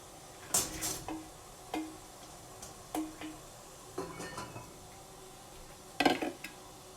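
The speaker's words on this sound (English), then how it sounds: "So we're going to put the cauliflower in the pan." Raw cauliflower pieces dropped into a pan to steam, heard as a few scattered clatters and clinks of florets against cookware, spaced out over several seconds with quiet gaps between them.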